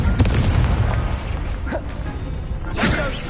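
A fire spell cast in the Hogwarts Legacy video game: whooshing magical bursts with a deep boom crack out over a dense, rumbling game soundscape, one flaring near the middle and a brighter burst toward the end.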